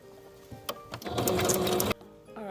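An electric sewing machine stitching a wig down onto cloth, starting with a few short stuttering stitches, then running in one steady fast whirring burst for about a second before stopping abruptly.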